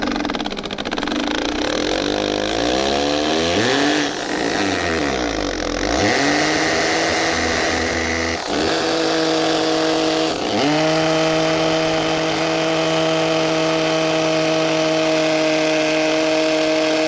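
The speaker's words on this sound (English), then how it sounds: "So we're going to drill a hole" A loud electric drill whines steadily boring a quarter-inch hole into a brick wall, its pitch sliding down and then holding steady, running continuously without pauses.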